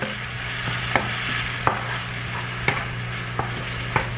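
A spoon stirs spiced masala frying in a pan for Bengali egg curry, with a steady soft sizzle and sharp scraping clacks against the pan at irregular intervals, close and alone.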